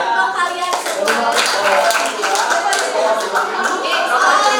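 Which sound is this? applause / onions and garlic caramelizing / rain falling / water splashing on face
applause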